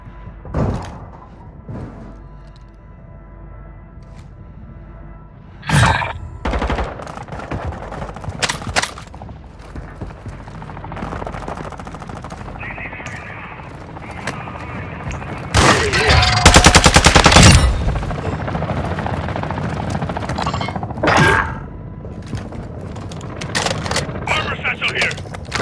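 Gunfire in Call of Duty: Modern Warfare 2 DMZ on Aishika Island: scattered sharp shots and short bursts, peaking in a loud sustained volley midway, with game chatter and voices in between.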